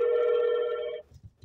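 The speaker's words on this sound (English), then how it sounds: "If you guys can hear that ringing" A telephone rings with one sustained, steady electronic ring lasting about a second, loud and close, then cuts off, leaving faint low rustling.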